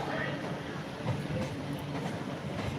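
A local train rumbles past steadily with a low, rolling roar and faint rhythmic clatter, heard from a morning train journey, while a voice speaks faintly underneath.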